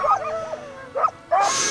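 Sled dogs in the Arctic Circle give a few short yips and barks in separate bursts, with a louder, noisier burst at the end.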